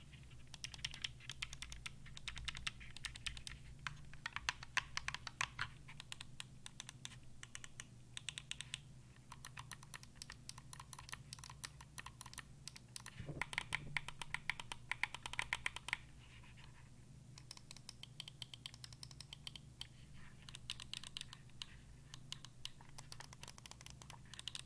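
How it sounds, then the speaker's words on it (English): Rapid clicky presses from the buttons of a Razer Wolverine V3 Pro controller, close and irregular, tapped in quick bursts with short pauses, no talking. "what controller review wouldn't be complete without a button test?"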